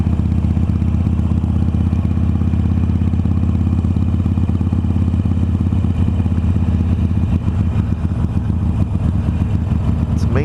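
A Harley-Davidson Iron 883 engine rumbles steadily and loudly throughout a ride, its low, pulsing exhaust note continuous with wind noise and no talk.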